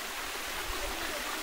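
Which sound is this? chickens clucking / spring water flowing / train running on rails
spring water flowing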